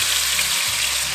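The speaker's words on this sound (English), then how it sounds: "And now I'm just gonna be slowly sauteing my chicken." Boneless chicken legs and thighs sauté in a pot, giving a steady, loud close sizzle with no break and no voices.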